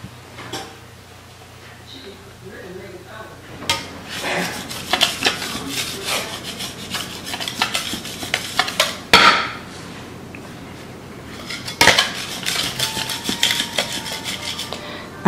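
A bread scraper cuts and handles homemade white bread dough, giving soft scraping rubs and sharp taps against the work surface in irregular bursts, near and moderately loud, with a person talking quietly in between.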